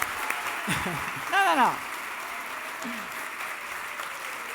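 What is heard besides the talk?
audience applause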